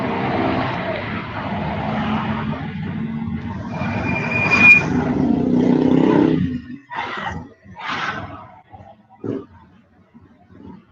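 Bajaj auto rickshaw riding through Dar es Salaam traffic, a close, rattling engine roar that builds, then gives way to scattered horn-like bursts and street noise.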